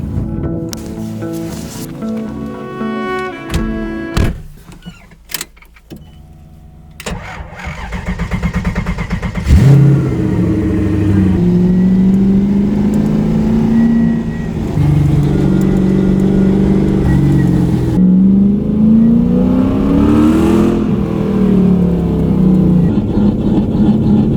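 A Mazda Miata engine cranks and starts after some faint background sounds, then idles and revs repeatedly, the pitch rising and falling, loud and close.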